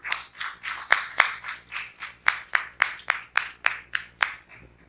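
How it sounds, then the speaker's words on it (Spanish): Audience at a church worship gathering clapping in a strong, regular rhythm, about a dozen sharp, loud claps in unison spaced evenly, then fading out at the end. "démosle un fuerte aplauso"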